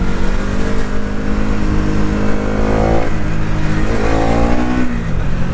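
A Bajaj Pulsar NS200 motorcycle with an underbelly exhaust revs loudly and close, its engine note rising and falling through repeated throttle blips.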